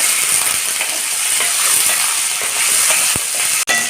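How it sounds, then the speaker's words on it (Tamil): Small onions with chillies and curry leaves frying in hot oil, giving a loud, steady sizzle and hiss with a few faint stirring clicks. "சின்ன வெங்காயம் ஒரு கைப்பிடி வெங்காயத்தை அதில் சேர்த்துடலாம்"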